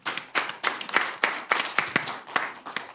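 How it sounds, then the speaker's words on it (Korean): Audience applause at an academic conference in a cultural center hall, a few people clapping in a loose, steady rhythm of distinct claps for about three seconds, fairly close and without talk. "박수로 환영해 주세요."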